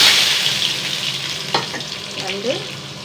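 Mustard seeds and shallots sizzle and crackle in hot oil for coconut chutney, a steady close frying hiss with a few stirring scrapes and small pops.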